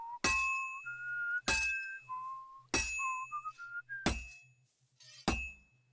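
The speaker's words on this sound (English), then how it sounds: "It doesn't help that this dickhead next to me started whistling" A game character in Kingdom Come: Deliverance 2 whistles a wandering tune close by, steady melodic notes running under sharp, repeated glassy clinks and knocks that strike about every second or so.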